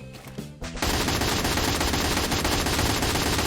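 Rapid automatic M4A1 rifle fire in the Free Fire shooting game, loud, close, sustained bursts of shots in quick succession after a brief lead-in of single shots.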